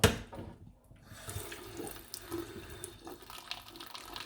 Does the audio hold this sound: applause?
no